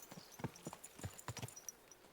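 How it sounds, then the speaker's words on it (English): Horse hooves clip-clop in the medieval game Kingdom Come: Deliverance II, giving a quick, uneven run of sharp, quiet hoof strikes heard alone at close range. "Now that's a horse."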